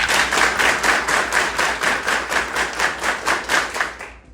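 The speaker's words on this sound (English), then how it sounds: "I want you to do 15 claps." An audience claps together in unison, a run of about fifteen evenly spaced, crisp claps in steady rhythm from a room full of people, ending abruptly.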